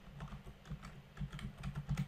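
Soft, quick clatter of typing on a computer keyboard, irregular bursts of keystrokes heard close up and quiet, with no talking over it.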